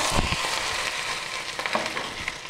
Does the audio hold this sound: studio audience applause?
no